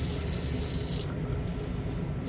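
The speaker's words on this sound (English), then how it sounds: "Water pumps always make a little noise because they're pumping" A small on-demand water pump running in a Sunseeker 3250 RV, a steady close hiss of water flow that cuts out about halfway through, leaving a low hum underneath.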